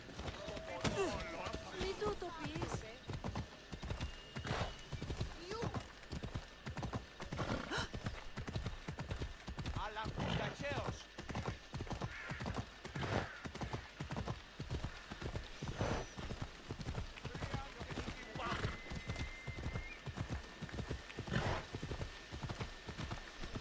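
A horse's hooves clip-clop in a steady, fast rhythm throughout in the video game Assassin's Creed Odyssey, galloping continuously with a faint whinny early on and occasional voices underneath.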